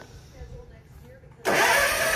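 In a workshop an engine cranks and catches abruptly after a quiet lead-in, jumping to a loud, steady running roar.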